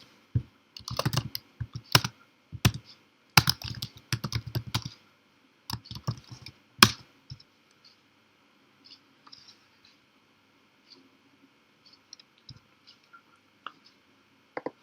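Keys clatter on a computer keyboard as a command is typed, with dense bursts of rapid clicks early on that thin out into sparse, single taps, close and alone.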